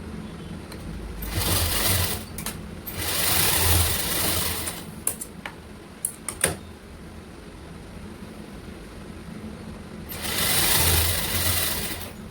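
A sewing machine runs in three separate bursts while stitching a red lined blouse, adding an extra line of stitches at the armhole, with quieter pauses between the runs.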